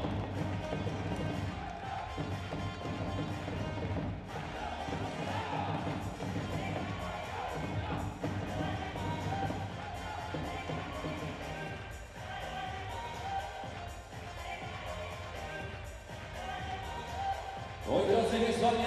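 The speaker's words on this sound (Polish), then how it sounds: "wszystkie ręce klaszczą!" A handball arena crowd claps along and cheers through a loud, continuous stretch, with music and an announcer's voice mixed in and a surge of noise near the end.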